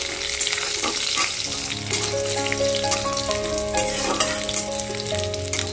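Garlic fries in a pan, a constant close hiss and crackle with occasional stirring scrapes, alone and fairly loud, with faint tonal background sounds running underneath.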